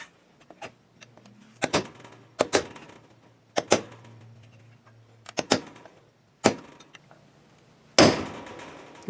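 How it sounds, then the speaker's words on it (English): Hammer blows on a punch driving out the door hinge bushings of a 1968 Mustang, sharp metallic strikes in irregular clusters of two or three, loud and close, with brief quiet gaps and a faint hum between hits. "I want to knock out the bushings. So I can take that longer punch, or I can come in from the side with the shorter punch and drive those out."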